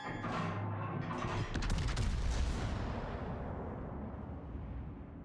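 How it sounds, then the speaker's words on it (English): Ship main-battery salvo from a Colombo cruiser in World of Warships, a loud booming volley rolling into a long fading rumble, with several sharp cracks layered near the start. "look at that salvo right there."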